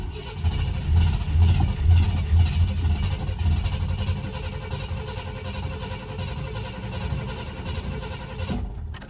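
A 1970 Ford Country Squire station wagon, parked for 14 years and with gas poured into the carburetor, runs in a loud, uneven rumble at first. It settles into a rough, lumpy idle before cutting out abruptly.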